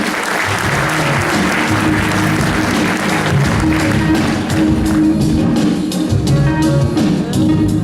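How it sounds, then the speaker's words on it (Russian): Loud, continuous applause from the audience at a local beauty pageant award ceremony, dense clapping sustained for eight seconds over a steady musical backing. "Аплодисменты."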